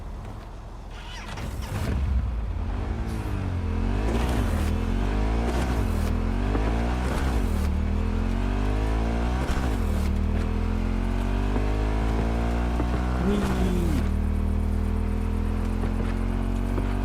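A Porsche drives in Cyberpunk 2077, its engine revving and shifting through repeated rising sweeps, loud and close, with a few thumps and clunks and no talk.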